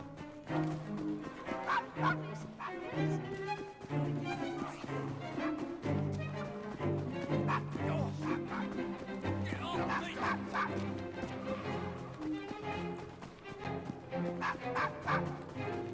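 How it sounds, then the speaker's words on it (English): A dog barks repeatedly in Assassin's Creed Syndicate, set in Victorian London, with sharp barks and yips over busy game music and ambient sound throughout. "Nice doggy."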